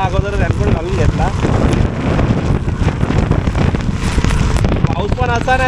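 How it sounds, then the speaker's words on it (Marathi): Heavy rain lashes down in strong gusting wind beside the Mumbai–Goa highway, a dense continuous roar with buffeting wind on the microphone and a person talking over it. "पाऊस पण असा नाही साधा सुद्धा की नॉर्मल पडतोय, जोराचा पडतोय आणि त्यात हवा मजबूत आहे."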